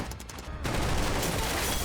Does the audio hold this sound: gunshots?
yes